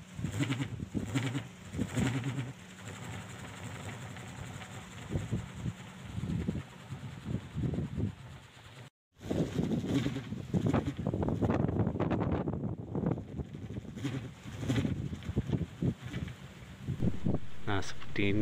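A Balinese kolecer wind spinner turns on a pole in strong wind, giving off a steady, wavering humming drone mixed with rushing gusts while a person talks over it.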